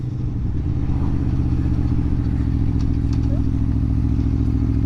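Aprilia Tuono V4 1100 Factory motorcycle, a 2020 model, with its engine running as a steady, loud, close rumble that holds throughout, with some faint clatter on top.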